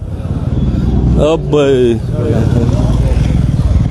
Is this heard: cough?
no